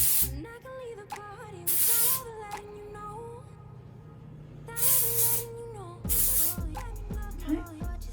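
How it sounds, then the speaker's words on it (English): Unite Texture Spray is sprayed through hair in several short, bright hissing bursts, close and loud, spaced between stretches of background music. "I'm just gonna spray this all through my hair"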